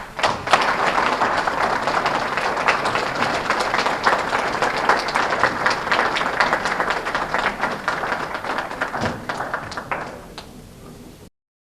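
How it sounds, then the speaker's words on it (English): Hand clapping and applause from an audience at a speech by Ambassador Macharia Kamau in Atlanta, dense and sustained for about ten seconds before ending abruptly. "Give him another hand clap."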